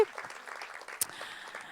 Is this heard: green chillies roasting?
no